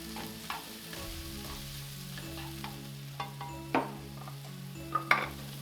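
Onion and garlic with salt frying in a pan, a soft steady sizzle with occasional stirring scrapes and a few sharp utensil clicks against the pan near the end, no voices.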